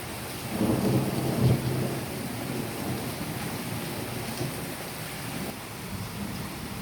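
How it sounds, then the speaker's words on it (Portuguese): Thunder rumbles low and heavy through a storm, one deep roll swelling early and then fading into a steady wash of falling rain, with no voices. "som de trovão"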